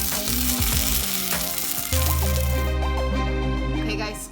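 Butter beer battered bacon sizzles loudly in hot oil, a steady bright crackle that runs under music.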